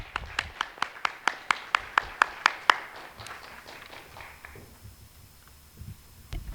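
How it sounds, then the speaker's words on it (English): A short run of sharp, evenly spaced claps at a conference talk, about a dozen in quick rhythm, then fading to quiet room noise; sounds like a few people rather than a large crowd. "Everyone, a big round of applause for them."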